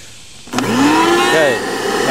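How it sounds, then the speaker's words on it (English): A vacuum cleaner switches on after a brief quiet moment to suck a string through a pipe, its motor whining up in pitch and then roaring steadily, loud and close. "Okay, vacuum is fired up."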